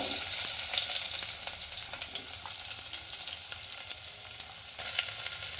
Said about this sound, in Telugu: ఆనియన్స్ కొంచెం గోల్డెన్ కలర్ వచ్చే వరకు అయితే ఫ్రై చేసుకోవాలి